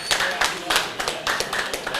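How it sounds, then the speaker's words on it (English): Crowd applause at a Madrid derby viewing party, many hands clapping in a steady, lively patter close to the listener, with voices mixed in underneath. "Please let's give it a round of applause"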